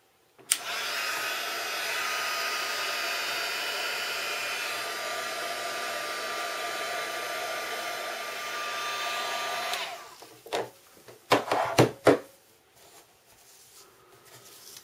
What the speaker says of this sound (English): I'm going to be heat setting this with the heat tool.